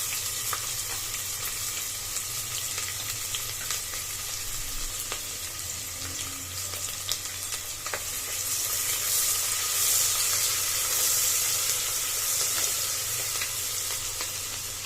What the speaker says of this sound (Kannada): ಈಗ ಅಂತ ನಾನು ಕಟ್ ಮಾಡಿ ಇಟ್ಕೊಂಡಿರೋ ಒಂದು ಮೀಡಿಯಂ ಸೈಜ್ ಈರುಳ್ಳಿನ ಹಾಕೋತಾ ಇದ್ದೀನಿ. ಹಾಕೊಂಡು ಸಾಫ್ಟ್ ಆಗಿ ಫ್ರೈ ಮಾಡ್ಕೊಳ್ಳಿ.